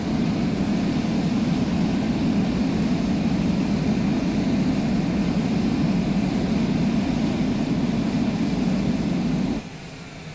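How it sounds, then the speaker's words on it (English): Thrust reversers on a Citation Longitude business jet in Microsoft Flight Simulator: a loud, steady broadband engine roar that runs unbroken, then drops away sharply just before the end. "The reversers are deployed"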